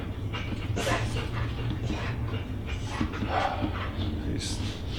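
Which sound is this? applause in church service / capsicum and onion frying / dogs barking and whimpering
dogs barking and whimpering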